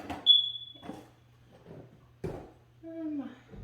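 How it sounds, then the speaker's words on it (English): A single high electronic chirp rings out from a smoke alarm, followed by quiet kitchen clatter and faint low sounds in a calm room while jars heat for pressure canning green beans. "My squeaky fire alarm."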